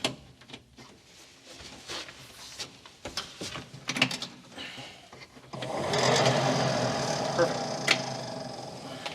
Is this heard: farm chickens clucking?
no